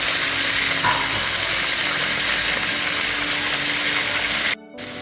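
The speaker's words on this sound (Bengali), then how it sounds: "এগুলোকে হালকা ভেজে নেব" Boal fish pieces seasoned with salt and turmeric fry in hot oil with a loud, continuous sizzle and hiss, broken by a brief cut near the end; no one speaks.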